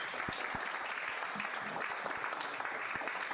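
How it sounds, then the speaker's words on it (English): Hands clap in a dense, continuous patter of sharp slaps, steady and moderately loud from start to finish. "I clapped at that."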